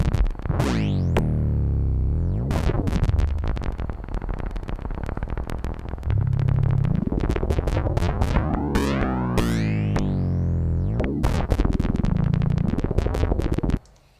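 A ringed Kunsa filter, gated from the Usta sequencer with its cutoff modulated by hand, layered with a Brainsaw modular synth: a continuous, loud, dense synth texture of resonant tones that sweep up and down repeatedly for about fourteen seconds.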